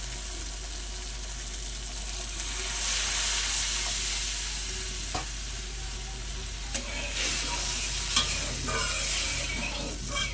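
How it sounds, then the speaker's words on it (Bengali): Water poured into frying masala for a Bengali singhi fish curry sets off a steady sizzle with stirring scrapes and a few sharp clinks of a spoon against the pan, close and continuous. "এবারে দিয়ে দেবো পরিমাণ মতো জল।"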